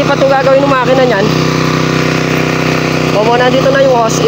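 A small power sprayer engine drones steadily throughout, loud and close, with people talking over it at the start and end.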